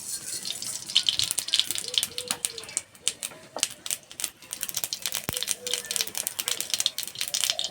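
Whole mustard seeds splutter in a spoonful of hot oil in a kadai, sharp irregular crackles and pops rattling close up, with a voice speaking over them.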